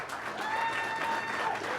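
An audience at a town board meeting applauds briefly, a soft, steady patter of clapping with no voices over it.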